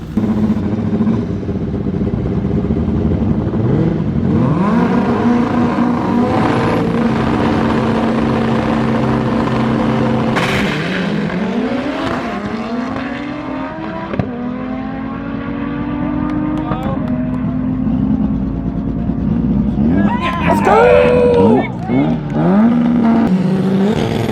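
An MR2-chassis VW Bug drag car races down the strip at altitude, its engine screaming loudly and rising through several sharp gear changes, with a brief lull partway through before the shrill wail builds again.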